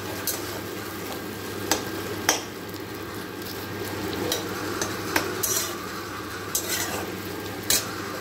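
Shredded cabbage fries in a pan with salt, turmeric, chili powder and cumin powder, a continuous crackling sizzle broken by sharp spatula scrapes and taps every second or so, close up.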